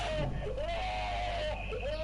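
A shot enemy in the Bloodwash video game screams in a wavering, drawn-out wail with a bleating quality, held steadily over a constant low game background hum.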